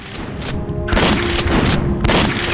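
Weapon fire hits barrels in Alien Trilogy on the Sega Saturn, two loud booming blasts close together over a dense noisy background.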